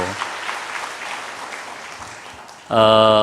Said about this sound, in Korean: 여러분 크게 한번 박수 더 해주시길 바랍니다.